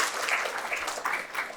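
An audience at a CPA roadmap talk at CSUSB breaks into applause, a dense, steady patter of clapping from a room of people, fairly close and sustained throughout.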